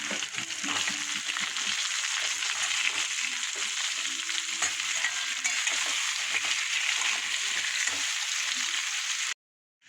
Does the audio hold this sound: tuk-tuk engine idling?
no